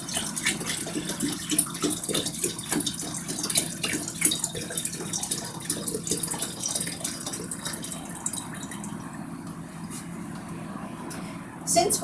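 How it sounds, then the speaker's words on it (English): Water runs from a kitchen sink tap into a kettle, a continuous splashing rush with faint clinks, while a voice speaks quietly over it. "we go to the sink and fill the rest of the kettle so it reaches up to the maximum level"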